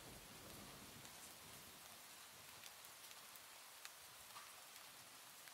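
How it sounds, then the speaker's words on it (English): Steady rain falls with a soft, even hiss and scattered drops tapping nearby, faint and continuous with no voices. "It will feature rain sounds and occasional thunder as background noise."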